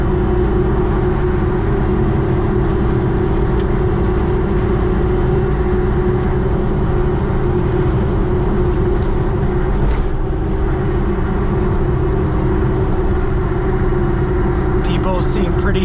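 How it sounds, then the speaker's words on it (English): A 1990 Suzuki Jimny cruises at about 65 to 70 mph with its engine near 4,500 rpm, giving a loud, steady interior drone of engine and road noise that holds without a break. "not go very fast, and it is very loud, but it handles okay"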